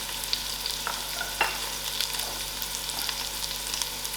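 Onions sizzle and fry in a pan for a hearty lamb stew as black pepper, garlic and chilies are added, a steady close crackle broken by a few stirring scrapes and clicks, with no talking.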